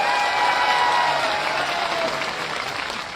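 Crowd at an environmental protest sit-in in Bikaner, Rajasthan, applauds in welcome for the minister and protest leader, a dense, steady burst of clapping that gradually eases.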